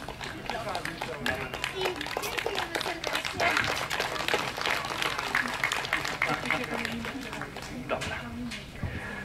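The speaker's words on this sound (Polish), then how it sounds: "Proszę o klaski." Audience applause at an outdoor family picnic, scattered hand clapping from a crowd mixed with voices talking throughout.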